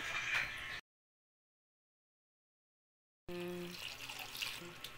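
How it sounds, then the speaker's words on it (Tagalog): Water runs steadily from a tap into a pot, a continuous splashing stream after a brief silence, close by. "Tapos lalagyan ng tubig."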